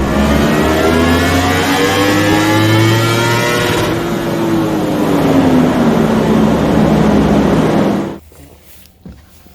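A Yamaha R1M sport motorcycle revs hard on a dyno: a loud, sustained engine wail climbs steadily for about eight seconds and then cuts off abruptly, leaving quiet background.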